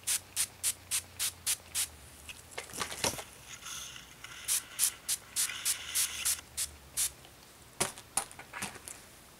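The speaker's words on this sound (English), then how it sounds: "Let me just spray the rest of your hair." Quick, crisp spritzes from a spray bottle wet a person's hair during a haircut, arriving in rapid close-up bursts: a run of even pumps, a pause with soft rubbing, then more irregular clusters of sprays.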